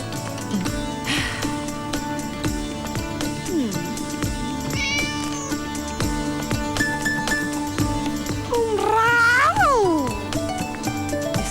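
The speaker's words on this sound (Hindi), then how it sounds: "मेरी बिल्ली।" A pet cat meows several times, with short rising and falling cries and one longer drawn-out wail near the end, heard over a busy background of music and household noise in a Hindi film scene.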